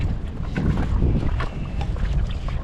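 Steady wind rushing and buffeting across the microphone outdoors on a sandy riverbank, with a low rumble and faint splashy water texture underneath.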